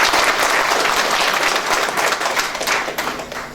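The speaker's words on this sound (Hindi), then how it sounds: "ताली बजा के बताइए।" A crowd claps loudly at a Hindi comic poetry gathering (kavi sammelan) in Ramgarh, Jharkhand, a dense, close burst of many hands that holds steady, then eases off slightly at the end.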